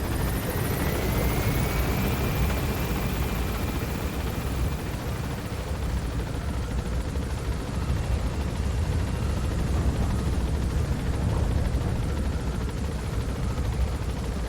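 A helicopter in Metal Gear Solid V climbs steadily, a loud continuous rotor and engine roar that holds level throughout with no talking over it.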